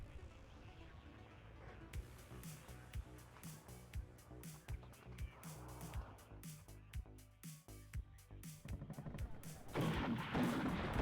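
BMP-2 and BMP-3 infantry fighting vehicles fire in a WARNO battle, rapid sharp cannon shots cracking in irregular bursts over a rumbling battlefield, with a denser roar of fire swelling near the end.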